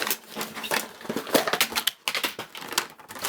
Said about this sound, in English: I am just going to rip this packaging apart